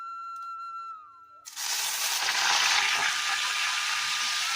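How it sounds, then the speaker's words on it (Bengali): Fish fat dropped into hot oil bursts into a loud, steady hiss and crackle after a short quiet start, the sizzle holding strong and close throughout. "গরম তেলের মধ্যে মাছের চর্বিটা ভেজে নেব।"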